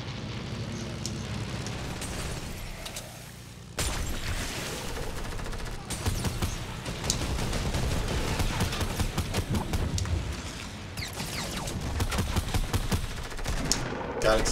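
Rapid bursts of automatic gunfire and shots from a Fortnite match at Dusty Divot, dense and continuous across the whole stretch, with some booming hits and a voice talking underneath.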